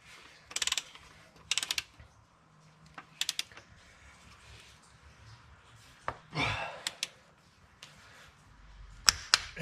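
Intermittent ratcheting clicks of a torque wrench tightening engine bolts on a Jeep 4.0L, short quiet bursts separated by pauses, close and faint with mechanical clatter between.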